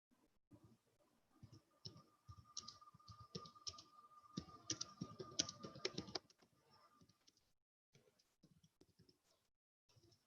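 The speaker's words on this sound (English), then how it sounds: "I am typing." Quiet typing on a computer keyboard, irregular bursts of close, soft key clicks that grow busier in the middle and then trail off into sparse taps and pauses.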